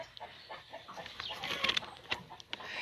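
An old pet duck, about five or six years old and injured, gives soft, quiet quacks and clucking calls in short irregular bursts, close by and faint.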